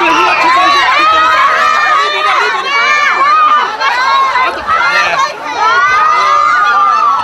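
Hundreds of fans scream continuously at Kim Hyung Jun's arrival at Hong Kong airport, a dense, loud wall of high-pitched shrieks and shouting that rises and falls without pause.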